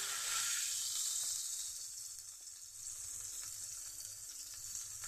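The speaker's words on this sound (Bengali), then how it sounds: "মাছ ভেজে যে তেলটা ছিল সেই তেলটার মধ্যে আমি পেঁয়াজ কুচিগুলি দিয়ে দিচ্ছি।" Chopped onions sizzle in leftover oil from frying fish, a steady close hiss that swells at first and then settles into an even crackle.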